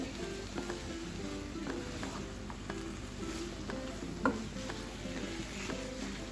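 Fresh coconut burfi mixture stirred and fried in a pan, a faint, continuous sizzle with soft scraping and an occasional light clink, close and low in level with no talking.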